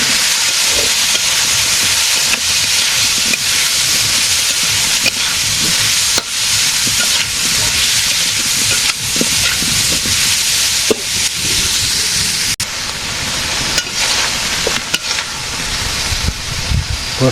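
Banana pieces fry loudly in a pan with turmeric and chili powder, a continuous dense sizzle and hiss with clinking stirring scrapes throughout, close and alone.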